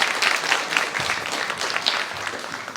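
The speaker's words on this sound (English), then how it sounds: "You deserve a big, big round of applause" A school spelling bee audience applauds spelling teachers and sponsors, a brief burst of steady, close clapping from a crowd in a hall.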